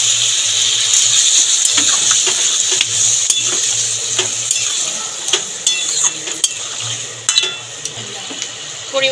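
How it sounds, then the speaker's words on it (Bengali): Taro and potato pieces coated in spices sizzle in a hot pan while a metal spatula scrapes and stirs them, close and loud, the frying hiss constant under sharp clinks. "ভালো করে কষিয়ে নেবো এবার আলুটাকে আর গাটিটাকে।"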